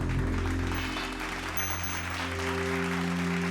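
An audience at a live Haitian television talent show claps in a steady, dense wash of applause that runs unbroken for the whole stretch, loud and close, with a low musical hum beneath it.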